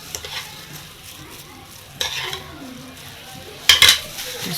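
A metal spoon stirs fish fillet in its marinade in a pan, with faint sizzling beneath and a few sharp clinks of spoon against pan, the louder knocks coming about halfway and near the end.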